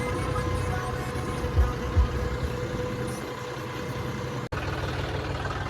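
John Deere tractor engine running steadily on a cold day while pulling a trolley in a village, a constant low droning hum with a couple of brief thumps and a short dropout, no talking.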